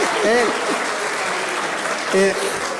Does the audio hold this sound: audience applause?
yes